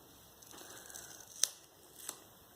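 Scissors cutting Whisper White card panels for a handmade card, quiet snipping and paper rustle with two sharper cuts standing out near the end.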